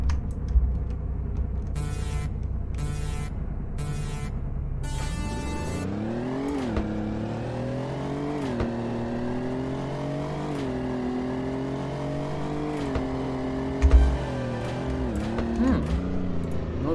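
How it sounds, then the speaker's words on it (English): Car engine in the video game Car Dealership Tycoon on a drag strip: a brief idle with clicking, then the engine revs up and holds a rising, straining drone through the gears, loud and continuous. "Let's listen to the engine sound as well"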